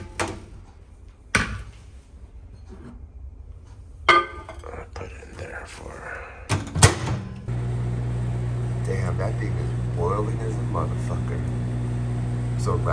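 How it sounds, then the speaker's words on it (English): Kitchen bumps and clinks, then a microwave oven starts and hums steadily while batter cooks in a big bowl, with a person talking over the drone. "then put it in the microwave"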